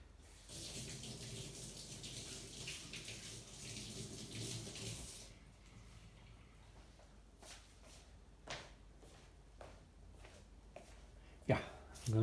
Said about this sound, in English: Let me wash my finger, please.